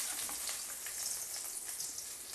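Chopped green chillies sizzle in about four spoons of hot oil in a pan, giving a steady, hissing crackle throughout, fairly faint and heard alone without talk.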